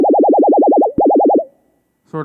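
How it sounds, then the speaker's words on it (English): A steady sine tone wobbling in pitch with a fast, even vibrato from modulation by another pitch, briefly cut once, then fading out before a short burst of another sound. "And then we modulate that pitch with another pitch."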